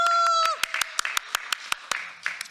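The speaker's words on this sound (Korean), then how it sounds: "우선 박수 한번 좀 쳐주시기 바랍니다" A short run of scattered handclaps, sharp and uneven, as a few people clap sparsely after a brief voice fades, at a press conference in the National Assembly in Korea.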